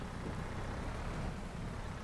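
Steady, constant rain falls in a farming video game on Xbox, a dense even hiss of droplets at low level with no breaks and no voices.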